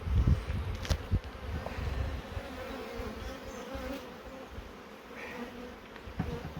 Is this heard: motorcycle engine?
no